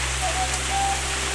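Rain falls steadily in the rainy season, a continuous close hiss of drops with a low steady hum beneath, brief and even in level.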